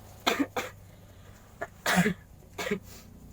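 Five harsh coughs come in short bursts with brief pauses between them, close and fairly loud, with no talking.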